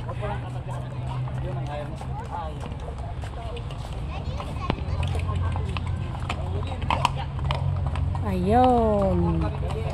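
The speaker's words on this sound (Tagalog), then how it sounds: "Masarap ba sumakay sa kabayo?" A horse carries a rider around Wright Park in Baguio City, its hooves clip-clopping in a steady rhythm under people talking and calling out nearby, with a horse whinny near the end.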